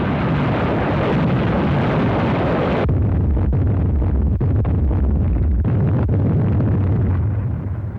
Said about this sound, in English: The assault troops were preceded by a rocket barrage, directed against the area behind the landing beaches.